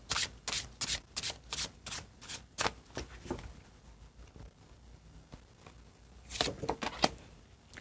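Tarot cards shuffled in quick bursts, a rapid series of crisp riffling flicks at first, then a quieter pause of soft rubbing, and another burst of flicks near the end, close and alone.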